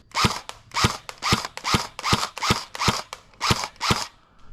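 Eight sharp pops come at a steady semi-automatic pace from an airsoft gun firing tracer BBs. Each crisp crack is close and loud, with short quiet gaps between shots.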